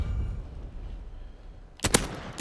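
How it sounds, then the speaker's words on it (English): A .357 Magnum revolver in the video game Modern Warfare fires twice in quick succession near the end, two sharp, loud, close reports after a quieter stretch of low background noise. "You can see you can hit those 2 shots at a higher fire rate"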